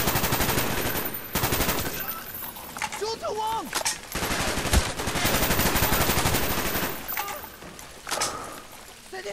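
Enemy automatic gunfire rattles from many directions in Call of Duty: Black Ops on PC, a dense, loud, near-continuous barrage with occasional short pauses and voices talking over it.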